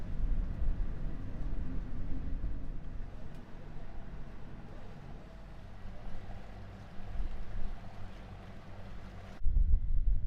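Strong wind gusting 25 to 30 knots in a bay approaching Urupukapuka Island in the Bay of Islands, heard aboard a sailboat as a constant low roaring buffet across the microphone with surging gusts and a sharp rumble near the end.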